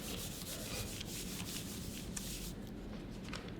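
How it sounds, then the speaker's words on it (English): Dry newspaper is rubbed quickly back and forth over a Japanese paper stencil to clean it, giving a steady, close, continuous scratchy rubbing with no voices. "It's easily cleaned by quickly rubbing the surface."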